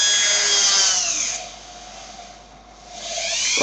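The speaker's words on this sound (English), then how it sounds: "I'm gonna go low speed here, and I'm gonna drill a small couple holes." A power drill run at low speed bores small holes in wood, a close, loud whirring grind that fades in the middle and then returns strongly.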